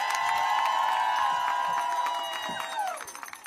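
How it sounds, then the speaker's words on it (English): Crowd cheering and applause for the ACLU National Legal Director at a Supreme Court birthright citizenship event, a steady wash of clapping and shouts with a whistle-like tone, fading over the last second. "let's give another amazing round of applause to Cecilia Wong, the National Legal Director."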